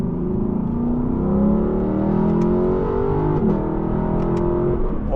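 A 2018 Lexus LC 500 engine revs up with steady harmonic tones rising and falling, loud and close, heard from inside the car with no talking.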